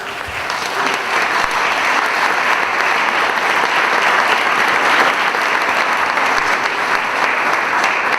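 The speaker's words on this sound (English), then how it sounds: "let's have a round of applause for Miv McGonigal" A large audience at a Latinx graduation ceremony applauds in a sustained, loud, dense roar of clapping that holds steady throughout, with no voices breaking through.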